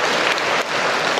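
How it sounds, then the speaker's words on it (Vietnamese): Children and a church congregation clap together in a steady, dense burst of applause at a Catholic Mass, loud and continuous with no voices standing out. "Rồi vỗ tay to chào nhau nè."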